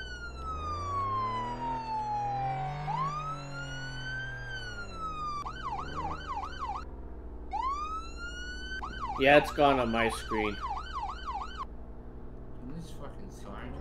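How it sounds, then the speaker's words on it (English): A police siren from the emergency-response game Flashing Lights sweeps through rising and falling wails, then changes to rapid yelp cycles and a brief burst of chatter, with someone talking over it throughout. "And this fucking siren just turned the fuck off."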